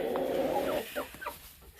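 On a winter homestead, chickens cluck and give a few short squawking calls close by, brief irregular notes over soft background noise.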